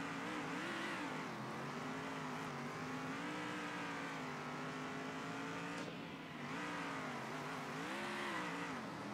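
A race car drifting around a track in the video game Circuit Superstars, its engine note rising and falling in sustained whines with tire squeal, steady and close throughout, dipping briefly before revving back up.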